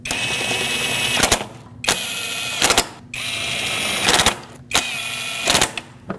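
A hand ratchet snugs throttle body bolts on a 2006-2015 Lexus IS250 in a cross pattern, heard as bursts of rapid clicking close up, separated by short quiet pauses, with no voices.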